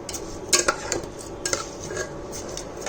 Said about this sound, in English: So now mix it up.